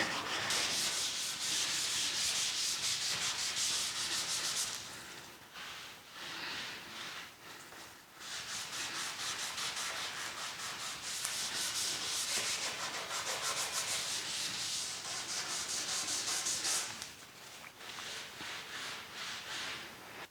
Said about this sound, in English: it takes a couple of times going over it with your pad and your Scotch-Brite and your rag